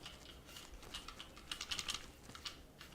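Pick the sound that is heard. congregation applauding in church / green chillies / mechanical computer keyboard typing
mechanical computer keyboard typing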